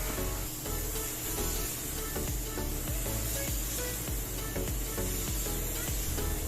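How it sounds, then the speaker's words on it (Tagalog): Epoxy primer being spray-painted onto a plywood door, a steady, loud, continuous hiss of the spray gun close by that runs without a break, with no talking. "At matapos natin ma-spray yung ating epoxy primer"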